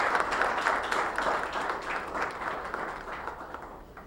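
Sustained, mid-level applause from a crowd at a ceremony as guests are invited up to a podium, gradually thinning out toward the end.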